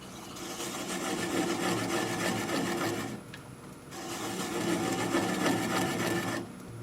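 A gouge cutting into a cherry crotch wood bowl on a lathe turning at about 200 rpm, a steady close rasping scrape that drops briefly near the middle and again at the end.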